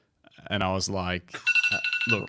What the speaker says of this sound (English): That's my alarm to get onto the live.